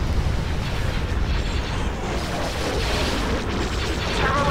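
A space station explodes in the strategy game Star Wars Republic at War, a sustained rumbling blast with crackling debris and booming low roar throughout, loud and dense.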